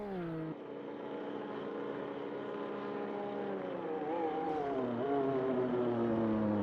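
A Formula Classic Gen 1 race car in Automobilista 2 on an out-lap at Adelaide, its engine droning at moderate revs with gentle rises and dips in pitch, held back and steady, alone and fairly close.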